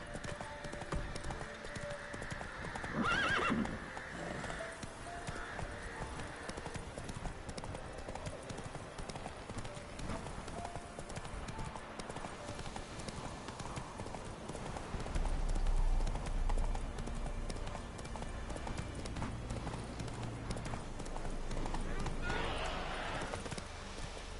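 Horse hooves clip-clop steadily through a PS4 video game scene, with a neigh rising briefly near the start, all set against continuous game ambience and music.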